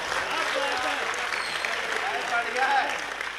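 Audience clapping at a mushaira poetry gathering in Pant Nagar, a steady broad wash of applause from a crowd, continuous and fairly even with voices mixed in.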